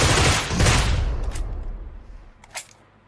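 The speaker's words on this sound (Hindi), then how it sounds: "इधर से शॉट्स आया था ना गाइस." Gunfire bursts in the BGMI battle royale game, a loud dense volley at the start that fades into reverberant decay, followed by a couple of sharper isolated shots near the end, with no voices.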